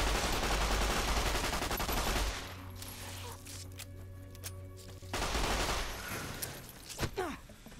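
A 9mm submachine gun in Fallout New Vegas fires in loud, dense bursts during the first couple of seconds, then breaks off and resumes with more sharp shots later, against a game backdrop.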